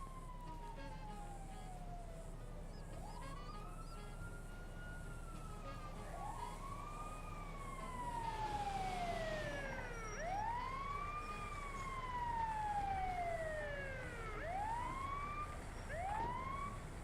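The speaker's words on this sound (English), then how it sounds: "Now he's going to call me an ambulance." An ambulance siren wails in a roleplay video game, a rising and falling whoop that repeats and swells as it draws closer, slightly doubled and echoing over a steady low background drone.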